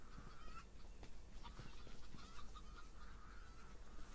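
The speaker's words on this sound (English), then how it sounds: "See, here's the stock CryEngine chickens." Synthetic stock CryEngine chicken calls in a video game, honking and clucking repeatedly over a steady low ambient hum, fairly close and continuous.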